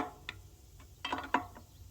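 A torque wrench clicks during car work in a garage: a few faint, sharp clicks spread over two seconds, the loudest pair coming close together near the end, in an otherwise quiet space.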